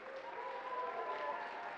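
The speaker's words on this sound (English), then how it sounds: "Let's give everybody a round of applause" Audience clapping for the youth talent show winner, a steady moderate round of applause from a modest crowd, heard alone.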